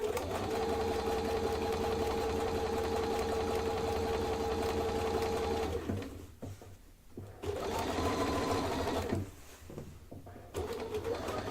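A sewing machine stitches a table runner seam along a chalk mark, a steady close mechanical whir with a rhythmic hum that stops twice for brief pauses before starting again.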